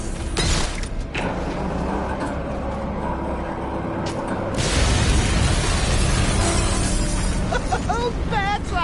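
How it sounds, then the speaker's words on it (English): An explosion at Ace Chemicals in a Batman Arkham game comes as a sudden crashing surge over ongoing mechanical clatter and rumble, loud and dense, with a voice speaking during it. "Warning, explosion imminent."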